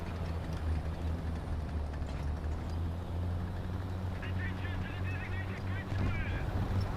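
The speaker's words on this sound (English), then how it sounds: "God, it is a bird." A bird honks in the combat video game War Thunder. Short, goose-like calls break through a loud, steady engine drone near the end.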